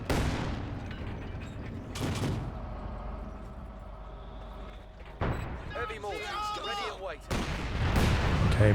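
Heavy mortar barrage from a mortar pit in Company of Heroes 2, with booming impacts and mechanical clanks and rattles among the shelling, under a man's speech.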